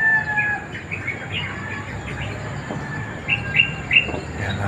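A flock of pigeons circles overhead, with soft distant calls and chirps over a low outdoor background and a few brighter, closer notes near the end.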